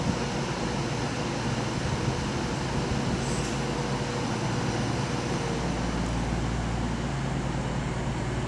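Two coupled Voyager diesel units working a CrossCountry service from Manchester Piccadilly to Reading at Birmingham International station, a steady broad rumble and whine holding level throughout, with no voices.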